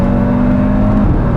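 Audi RS3 five-cylinder engine accelerating, a loud, close, steady growling drone with a strong low hum that holds briefly before easing slightly.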